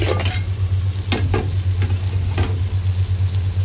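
Radish pods (moongray) sizzle steadily in a pan while a spoon scrapes and stirs in a few distinct strokes, close up over a constant low hum, with no voices.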